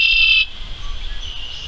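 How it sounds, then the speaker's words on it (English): A red-winged blackbird sings a loud, harsh buzzy note that gives way to a thinner, sustained trill over a low background rumble. "Sometimes the male might sing a loud, powerful song, like the red-winged blackbird."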